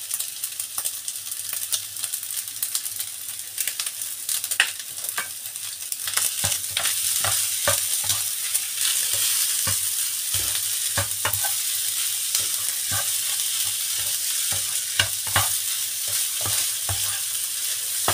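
Fried rice with egg and minced pork stir-fries in its own rendered fat, a steady bright sizzle broken by repeated scraping clicks of a utensil against the pan, close and loud, with no talk.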